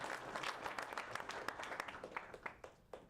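A small meetup audience claps, with distinct individual hand claps standing out from a sparse, uneven patter that continues for a few seconds at a fairly quiet level.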